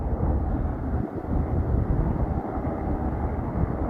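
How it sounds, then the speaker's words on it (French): A helicopter flies near a wildfire in Aguiar da Beira, Portugal, on its way to take water from a well. Its engine and rotors make a steady, dense low rumble that does not let up, roughened by wind buffeting. "L'hélico vient chercher l'eau au puits de ma tante pour pouvoir s'approcher du feu au plus près."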